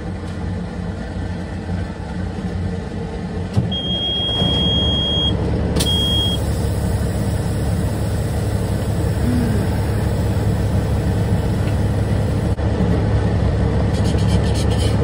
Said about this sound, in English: All right, let's move the truck.